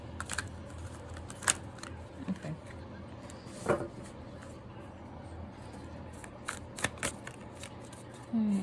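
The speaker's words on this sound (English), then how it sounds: "these cards are a pain to shuffle" Soft riffling and flicking of tarot cards being shuffled, with scattered light taps, quiet and close over a faint room hush.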